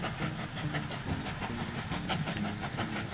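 A freight train rumbles steadily along in the railway game Mashinky, a close, continuous rolling clatter with a faint rhythmic click of the wheels.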